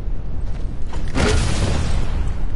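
A single deep boom of a cannon firing in Fortnite lands about a second in, a heavy low blast with a brief rumbling tail.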